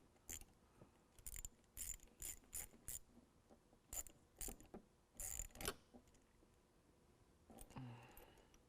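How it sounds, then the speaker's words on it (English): A 10mm ratchet clicks in quick bursts, loosening the nut on the negative battery terminal of a 2017 Ford F-250 Powerstroke. The bursts come close and repeated, separated by short pauses. "we're going to remove the nut off of our negative terminal"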